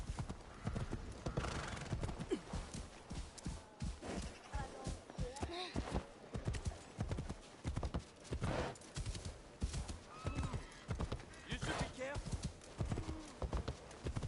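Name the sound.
horse hooves galloping in video game Assassin's Creed Shadows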